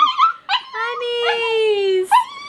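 Puppies shut out of a workshop at night whimper and whine in long, high, wavering cries, close by and loud, broken by short yips.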